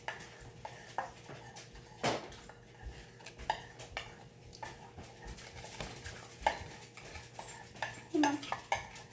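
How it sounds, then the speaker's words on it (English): A utensil scrapes and clinks against a bowl while glitter is stirred into a mixture, giving a close run of irregular taps and scrapes, with a faint dog whimper at one point. "Next, we are going to mix that into it."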